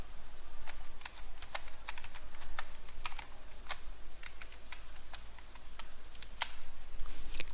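Keys on a computer keyboard are tapped in an irregular run of crisp, close clicks over a steady low hum while a password is typed.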